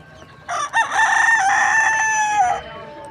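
A rooster crows loudly and close by, a long drawn-out call, with hens clucking around it, at a bird and animal market in Khamis Mushait, Saudi Arabia.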